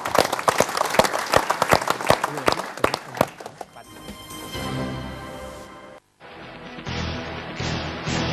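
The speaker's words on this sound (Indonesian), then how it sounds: "kita beri tepuk tangan lebih dulu" Sharp claps ring out at first, then sustained applause from a crowd fills the space, briefly cutting out before continuing.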